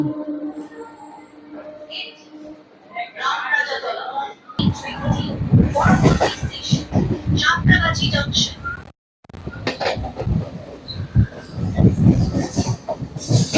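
Local commuter train on the Howrah to Medinipur line rumbling along the rails near Santragachi, a steady loud mechanical roar with wheel clatter that briefly drops out before resuming.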